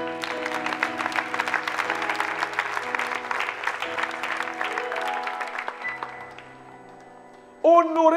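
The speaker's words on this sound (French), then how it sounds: "On peut les acclamer." An audience at a church seminar applauds steadily for several seconds. The clapping fades, and a tonal musical sound starts near the end.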